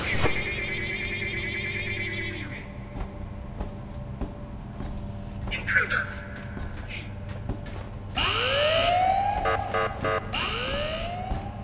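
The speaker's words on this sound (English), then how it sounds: "Sound the alarm!" An alarm siren wails in the Ice Scream 8 video game, with rising and falling electronic tones sounding over game background noise, first held steady and later sweeping repeatedly, without speech.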